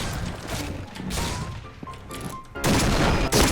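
A Barrett sniper rifle fires in the game Point Blank amid busy game noise, with two loud, heavy blasts close together near the end after a stretch of quieter rumbling and clatter.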